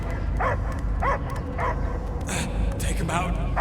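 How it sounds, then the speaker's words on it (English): A dog barks in a few short, repeated yips in the Guardians of the Galaxy video game, heard under ongoing character dialogue. "I hear only barking"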